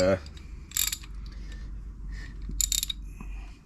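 A 1/2-inch ratchet wrench works on a spring-loaded belt idler pulley during a Corvette alternator upgrade, giving two short bursts of rapid clicking close up over a low engine-bay hum.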